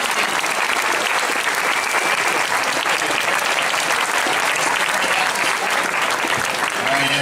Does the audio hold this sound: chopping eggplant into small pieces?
no